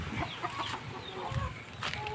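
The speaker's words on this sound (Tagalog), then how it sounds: "Nakalabas lahat ng manok." Loose farmyard chickens clucking in soft, scattered bursts after escaping their pen, fairly faint with outdoor background noise and no clear speech.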